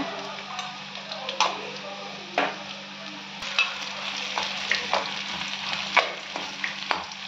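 Salted sliced onions fry in a pan for mint chicken, giving a steady close sizzle broken by intermittent clinks and scrapes of stirring.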